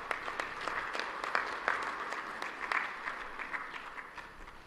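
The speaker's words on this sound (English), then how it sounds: "May I please request that we have 2 rounds of applause for our co-chairpersons" Applause from an audience at the official opening ceremony of a joint EAC and SADC heads of state summit, steady scattered clapping that swells and fades over several seconds, moderately distant with no talking.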